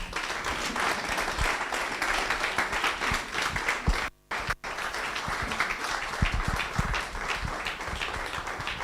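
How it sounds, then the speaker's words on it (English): A large audience applauds Professor Osinbajo with sustained, dense clapping that fills the room, broken by a brief near-silent gap midway before resuming at full strength. "a big round of applause for Professor Osinbajo"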